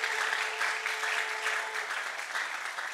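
A French class claps together, a steady burst of dense applause from a roomful of students lasting a few seconds, moderately loud and close.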